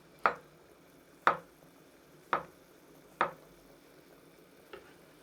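A knife cuts cooked meat on a board into bite-sized pieces for gomtang, giving five sharp, isolated chops about a second apart, close and crisp against a quiet background.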